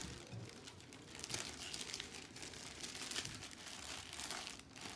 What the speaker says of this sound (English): And now you can put in the zip bag.